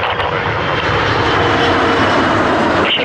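A fixed-wing aircraft lands at Toronto Pearson airport, its engines roaring loud and steady at close range, a continuous broadband rush with a faint higher whine near the end.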